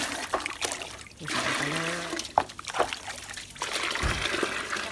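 About ten liters of water pour into a watering can with a shower-rose head. A loud trickling gush is broken by splashes and short pauses, and the pitch climbs as the can fills.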